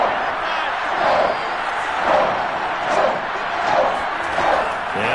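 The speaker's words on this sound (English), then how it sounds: "The crowd getting into it as we come up on a big third down." Stadium crowd in a Madden football video game swelling before a big third down, a steady roar of cheering with rhythmic surges, loud and continuous throughout.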